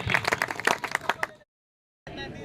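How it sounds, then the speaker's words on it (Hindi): Audience claps to welcome the chief guest at a political gathering in India, a dense burst of hand claps for about a second and a half that cuts to silence, then a steady hum of room noise. "एक बार पुनः दोनों हाथों से तालियां बजा करके मुख्य अतिथि जी का स्वागत करिए"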